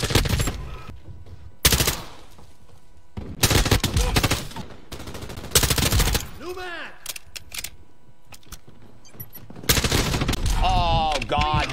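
M4 rifle fire in Call of Duty: Modern Warfare 2, loud close bursts of rapid automatic shots separated by short pauses, with game sound effects between them.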